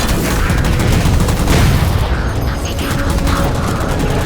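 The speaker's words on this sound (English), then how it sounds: "Shoot them down." Dense rapid gunfire rattles continuously in Halo 4 as weapons shoot down enemy jammers, loud and close with booming impacts mixed into the volley.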